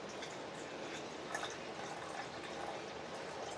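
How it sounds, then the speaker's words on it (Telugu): About 200 ml of water poured into a pan for making chocolate oats, a faint, steady liquid splash and trickle heard alone throughout. "సో ఫస్ట్ అయితే 200 ml వాటర్ అయితే యాడ్ చేయండి"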